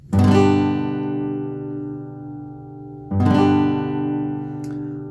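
Two acoustic guitar chords are strummed a few seconds apart, each ringing out and slowly fading, close and clear with no voices.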